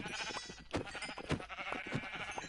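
Several short sheep bleats from a video game sheep pen come one after another, fairly soft, with light background noise between them.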